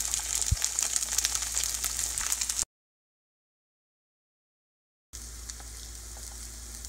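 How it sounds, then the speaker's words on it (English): Pieces of redhorse suckerfish deep frying in hot oil, a steady close sizzle and crackle that cuts to silence for a few seconds, then resumes. "Redhorse, you have to fry it very, very thoroughly, almost to not burnt, but a very deep fry"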